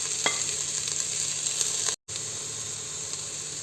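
Carrots and soaked soya chunks sizzle steadily in hot oil for vegetable biryani, with scraping stir strokes throughout and a brief dropout near the middle; close and fairly loud with no talking.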